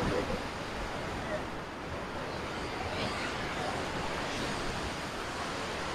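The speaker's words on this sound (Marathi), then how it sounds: "समुद्र आणि समुद्राच्या लाटा" Sea waves breaking on a deserted beach, a steady soft wash of surf with some wind, fairly faint and unbroken.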